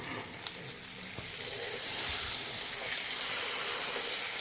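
A braising beef shank sizzles steadily after being flipped in a hot pan. The frying is a continuous moderate hiss with a few faint clinks, and no one speaks.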